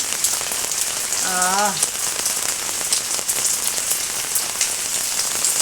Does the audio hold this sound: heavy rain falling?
yes